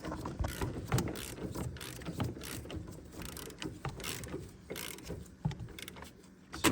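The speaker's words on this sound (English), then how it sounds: "You can get the bottom one from down here with a ratcheting wrench" A ratcheting wrench works loose the bottom strut bolt on a 2014 Chevy Silverado, giving quick runs of faint metallic clicks in irregular bursts, close by amid light clanks and shop noise.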